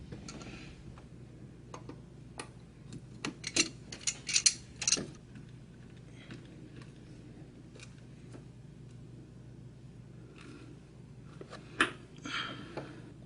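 Hands work in the engine bay of a Nissan 350Z, refitting the fuel pressure damper: quiet metallic clicks, ticks and ratchet-like taps in irregular clusters, close, over a low steady hum.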